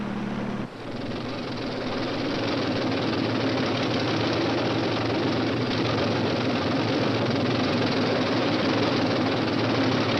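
Helicopters hover over a military landing of Army units from offshore transports, a steady, heavy low engine drone with rhythmic rotor throb that continues unbroken at fairly close range.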